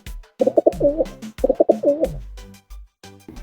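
Pigeon cooing in two rhythmic phrases of soft, throaty warbling notes, close and clear over a quiet background.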